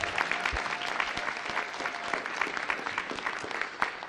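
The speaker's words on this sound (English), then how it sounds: "give them a nice round of applause" Audience at a Las Vegas City Council meeting gives a round of applause, a steady, fairly quiet wash of many hands clapping in a large room, continuous for several seconds with no talking.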